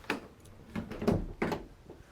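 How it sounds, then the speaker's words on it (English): Rear doors of a 2018 Ford Transit Custom 2.0 TDCi van thud and clunk several times, with a few separate solid impacts spaced over two seconds, close by and fairly quiet. "Twin solid rear doors,"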